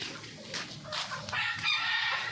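Chickens cluck and a rooster crows nearby, a busy farmyard chorus of short calls, fairly quiet and with no one speaking.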